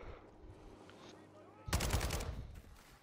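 Automatic gunfire in the video game Call of Duty MW2: a loud, dense burst of rapid shots erupts after a stretch of quieter background ambience and lasts about a second before fading.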